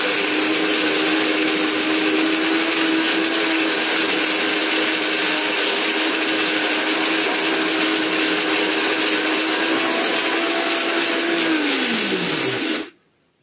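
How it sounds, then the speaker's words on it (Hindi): An electric mixer grinder whirs loudly and steadily while grinding cashews into paste for kaju katli, holding one constant whine before the motor cuts off and spins down at the end. "ये जब हम ग्राइंड कर रहे हैं मिक्सी का जार गर्म हो जाता है"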